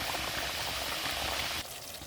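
Assamese katla fish curry with poppy-seed paste simmers in a pan, a steady dense bubbling close up that drops to a softer simmer in the final half-second.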